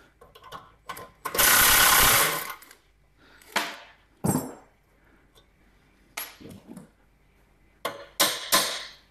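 A nut splitter works on a Zundapp KS 50 moped, giving loud metallic clanks, a long harsh grinding burst and several sharp clinks close by, separated by short pauses of quiet.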